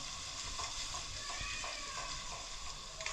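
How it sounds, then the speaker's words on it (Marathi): Ground masala and spices roasting in a hot pan for a village-style egg and chicken dish, a steady close sizzle and hiss with faint stirring scrapes underneath. "वाटण बारीक केलं जातं त्याच्यामध्ये भाजून घ्यायचं"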